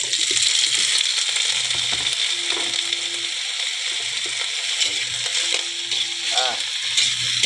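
Vegetables hitting a pan of frying chorizo set off a bright, constant sizzle and hiss, with occasional stirring scrapes and a low hum underneath, a voice faintly murmuring near the end.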